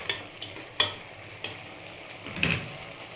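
Chicken being stirred in a pan for a chicken soup, heard as several separate scraping clinks of the spoon over a soft, low sizzle, with no talk.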